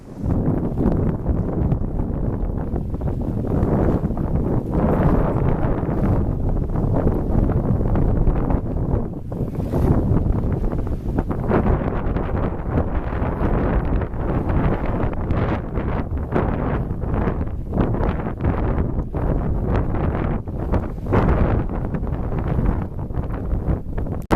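A strong, freshening sea breeze buffets a sailboat that is pointing close to the wind, giving a steady, loud roar of wind noise with a low rushing rumble throughout and no clear voices.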